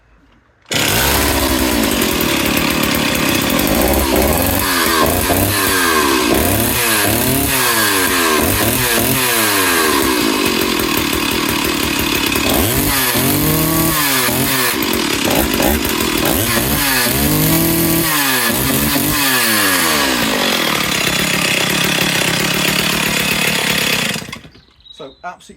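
Stihl 028AVSEQ chainsaw engine running loud and close for about 24 seconds, with repeated revving up and down between idle and high speed, alone with no talk.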